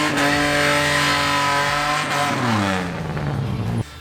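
A naturally aspirated, cammed Ford AU Falcon races down a drag strip, its engine roaring loud and close with climbing revs, shifting pitch through the gears before cutting off abruptly near the end.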